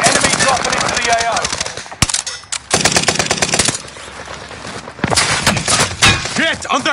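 Rapid machine gun bursts from a video game firefight crackle loudly and almost continuously, broken by a few short pauses, with a voice speaking over the shooting.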